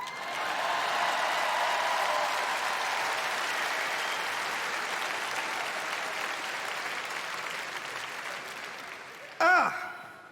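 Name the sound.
audience applause for a DJ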